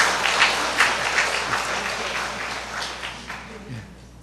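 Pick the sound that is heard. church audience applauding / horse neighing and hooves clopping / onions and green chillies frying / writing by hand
church audience applauding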